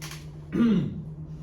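A single short cough or throat clear, close by, against a quiet background hum.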